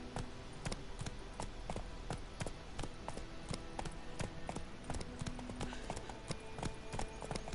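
Video game horse Roach gallops in a quick, even rhythm of hoof clip-clops, steady and fairly close throughout, with no talking.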